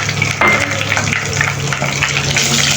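Whole garam masala spices, cinnamon, cloves, green and black cardamom, with bay leaves, fry in hot oil for a Bangladeshi duck curry, giving a steady, close, dense sizzle with small crackles throughout.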